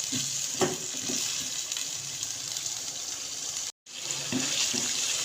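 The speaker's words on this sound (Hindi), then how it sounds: "3 से 4 मिनट हम आलूओं को इस मसाले के अंदर फ्राई करेंगे।" Potato pieces fry in a spice masala with a steady hiss and sizzle and a few soft stirring knocks, briefly cutting out near the end before the sizzle resumes.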